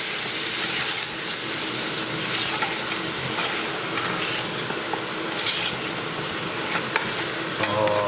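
Lamb karahi with spices sizzles in a pan while being stirred, a constant bright hiss with scattered scraping and clinks of the spoon throughout.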